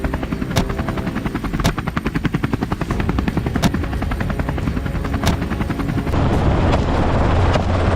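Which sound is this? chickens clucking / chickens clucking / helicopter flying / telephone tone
helicopter flying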